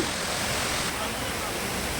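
The Aliyar waterfall near Valparai, a herb-laden falls fed from the Anaimalai hills, roars as a steady, dense, close rush of falling water with no break.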